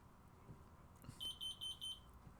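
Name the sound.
intermittent electronic beeping from a detector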